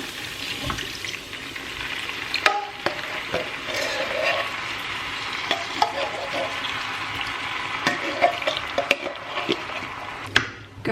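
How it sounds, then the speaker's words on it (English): Vegetables cooking with coconut milk in a pot are stirred, producing a bubbling, watery simmer with scattered utensil knocks against the pot. "I'm just going to stir it to make sure that nothing's like burning on the bottom"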